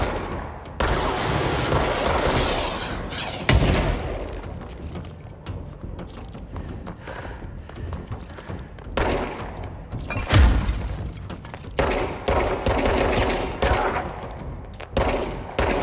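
Rapid gunfire bursts and heavy impacts fill the video game Control, with repeated shots and thuds in a dense, loud battle that runs throughout.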